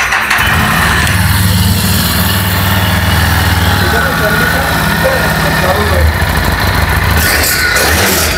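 A twin-engine cruiser motorcycle, a Harley-Davidson Street 750 in near-new, first-owner condition, idles with a steady low throb that stays loud and close throughout, briefly dipping and swelling once, with no one speaking.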